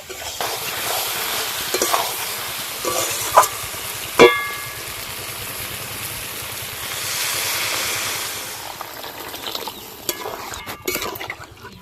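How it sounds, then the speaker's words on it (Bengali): Water is poured into a pan of potatoes fried with spices for a river-fish curry, setting off a sharp sizzling burst followed by a long rushing hiss and bubbling that slowly settles. "এবার জল দিয়ে দেব"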